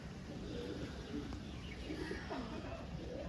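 Pigeons coo faintly at a market in Serampore among many birds, soft low calls repeating under a steady wash of background noise and distant voices.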